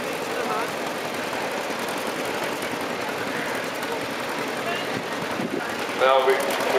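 A vintage Roadless 115 four-wheel-drive conversion tractor with a Ford 600 engine runs steadily in a rally parade, its loud, even engine drone continuing throughout with a brief louder burst near the end.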